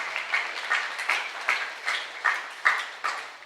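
A church congregation claps in a steady rhythm, each clap landing roughly every half second at moderate loudness, with no talking over it.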